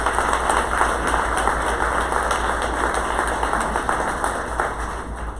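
Steady, sustained applause from a conference audience at a board summit, dense clapping filling the room evenly and loudly throughout.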